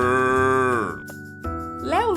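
A cow gives a long, loud moo that holds steady, then a second bellow rises and wavers near the end, heard up close and alone.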